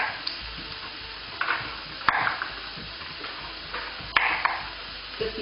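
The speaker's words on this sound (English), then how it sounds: "Stir frying it with water instead of with oil." Onions stir-frying in water rather than oil, with soft sizzling and intermittent scraping stir strokes up close, a few sharp clinks of the utensil against the pan.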